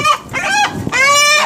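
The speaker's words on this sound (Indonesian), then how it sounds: "Coba ini ada dua ayam di sana yang tidur." A chicken roosting in a tree at night squawks and clucks loudly and close up, with agitated, rising distressed calls in quick succession as it is grabbed.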